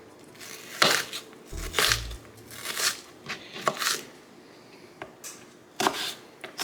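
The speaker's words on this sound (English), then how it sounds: "Oh, I hate chopping onions. I'm trying to cut this up very small." Half an onion being chopped small with a knife on a cutting board in a home kitchen, giving sharp, irregular near taps, roughly a dozen spread over several seconds with short pauses between.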